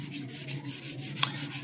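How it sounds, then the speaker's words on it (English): A very fine foam sanding pad rubs gently across the top of a vacform plug, giving soft, close, rhythmic scuffing strokes with one brief sharp tick. "What I'm using is a very fine sanding foam pad. And I'm just very gently sanding the top."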